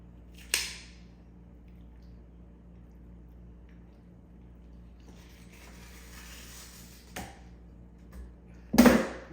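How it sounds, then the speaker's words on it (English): Fireworks going off in the distance during a weekend of celebrations, heard as a few sharp, separated bangs and pops spread across a quiet outdoor background with no talking. "People are still lighting off fireworks."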